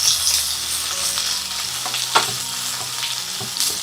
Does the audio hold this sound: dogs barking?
no